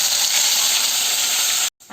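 Ground masala hits hot oil with crackled cumin for a spicy brinjal dish, giving a loud, continuous close-up sizzling hiss that cuts off abruptly near the end.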